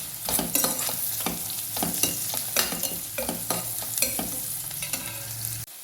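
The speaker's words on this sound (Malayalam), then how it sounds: "ഒരു ബ്രൗൺ കളറാവണ വരെ നമുക്ക് ഇളക്കി കൊടുക്കാം" Sliced onions fry and sizzle in a pan with cinnamon for a beef curry, with a spoon scraping and stirring in a steady run of clinks and scrapes under a constant loud sizzle, no talking.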